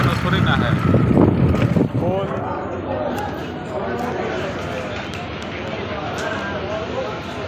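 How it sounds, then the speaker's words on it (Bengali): Wind buffets the microphone on a moving motorbike, a gift from the rider's father, loudest at first and then easing to a steady rush while a person talks over it. "এই বাইকে করে যাচ্ছি"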